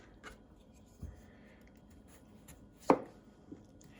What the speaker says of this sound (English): So when you're slicing up your potato,